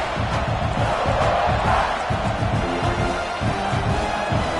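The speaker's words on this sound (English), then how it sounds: "This crowd, full throat, spreading the eardrums and letting them know it's going to be a long day." A packed football stadium crowd in Kentucky roars at full throat, a dense, continuous wall of cheering and shouting that stays loud and steady throughout.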